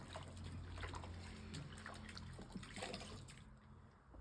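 Water running and splashing while dirty alpaca and sheep wool is washed by hand, a soft, continuous trickle and slosh at close range, fairly quiet, tapering off at the end.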